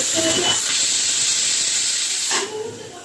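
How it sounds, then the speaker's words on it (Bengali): Steam hisses steadily from a pressure cooker of chicken for chicken sweet corn soup on a gas flame, building toward its whistle; the loud, close hiss holds for a couple of seconds, then drops off abruptly near the end. "সিটি পড়তে যাচ্ছে মাংসের কুকারটায়"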